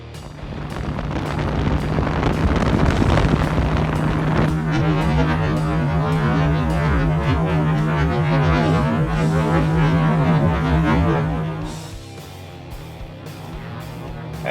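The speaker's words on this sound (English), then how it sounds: "it's pretty windy out on the lake as usual" Strong wind buffets across an open lake while a motorboat runs on plane over choppy water, a steady low engine drone under loud, continuous rumbling gusts that ease off near the end.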